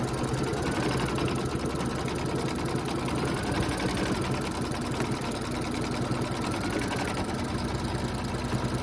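A sewing machine runs continuously, its needle stitching in a fast, steady mechanical chatter at close range with a low motor hum beneath.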